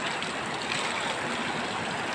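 Cold spring water running steadily from a natural spring in a hidden spot in Bicol, a continuous close rushing and splashing with no voices over it.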